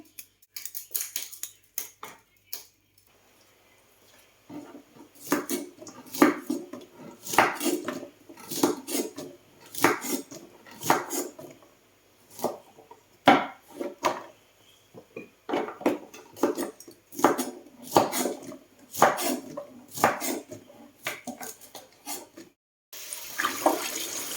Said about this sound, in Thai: ตัดหัวตาดหางแล้วก็ตัดเป็นชิ้นๆ